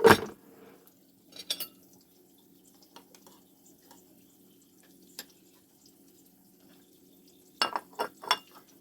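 A spoon clinks against a cup while a cup of tea is stirred in a home kitchen, a few light metallic taps at the start and end with quiet gaps between.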